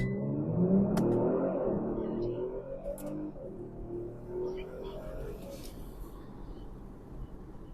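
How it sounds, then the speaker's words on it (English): A Kia Stinger GT2 launches in first gear with manual shifting, its engine rising in pitch then dropping as gears change, heard from inside the car at moderate level with a voice over it. "I'm going to do a quick pull launching out of first and see if I beat that 411."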